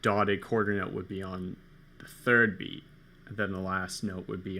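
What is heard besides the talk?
None of the usual background noises is heard.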